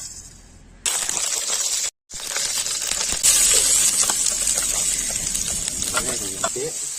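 Mustard seeds drop into hot oil in a pan, setting off a crackling sizzle with scattered pops and spits that continue steadily, while a voice talks over it.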